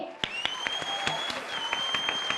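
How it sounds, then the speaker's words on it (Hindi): Audience clapping in a comedy TV studio, a short burst of even, steady applause with sharp individual claps, close and moderately loud. "इस बात पर तो तालियां बजनी ही चाहिए"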